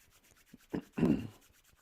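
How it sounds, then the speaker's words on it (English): Palms rubbed together during a qigong exercise make a brief, soft swishing friction, two quick strokes in close succession, heard alone and fairly close. "Rub your palms together."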